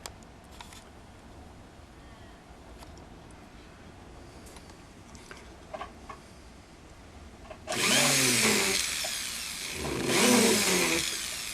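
A power drill with a sharp bit bores through metal while making a small Celtic-design pendant, a loud whine starting partway in after quiet room tone, rising twice, close by.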